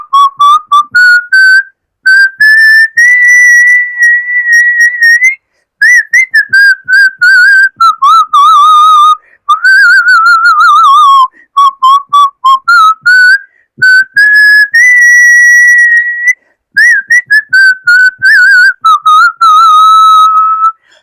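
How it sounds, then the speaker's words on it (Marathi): A person whistles a song solo, a clear, loud, bright melody of sliding and sustained notes in phrases separated by short pauses, with no talking. "मी शिट्टीतून गाणं म्हणून दाखवणार"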